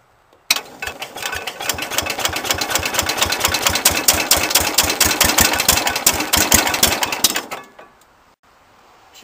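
Cub Cadet 107 lawn tractor engine cold starting on full choke at half throttle, catching quickly and running in a loud, steady, rapid putter for about seven seconds before abruptly cutting off.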